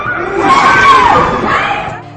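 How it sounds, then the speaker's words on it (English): A large crowd shouting and yelling in a Kroger supermarket parking lot on a Saturday night, a loud, continuous wash of raised voices that swells and then fades toward the end. "he saw a large crowd in the parking lot"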